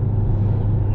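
Audi TT RS with a stock exhaust line, running a crackle map, idling with a steady low engine rumble up close and no talk.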